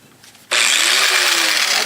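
A Harbor Freight Drill Master 4.5-inch angle grinder switches on abruptly and runs at a steady loud whine, close by.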